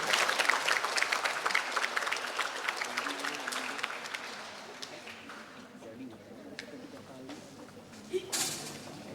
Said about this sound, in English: let us give big warm applause to Professor Won Kuli